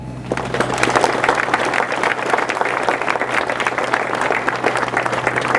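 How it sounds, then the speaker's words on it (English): Steady audience applause for the Golf Canada president at an Olympic golf team introduction during the Canadian Open, dense and even clapping from a sizable crowd throughout, with a low steady hum beneath. "please give them your applause"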